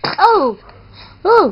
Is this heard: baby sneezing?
yes